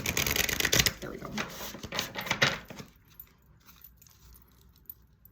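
Oracle cards from a Woodland Wardens deck are shuffled by hand, giving a dense, rapid papery riffle for almost three seconds before it drops off to near silence with only faint handling.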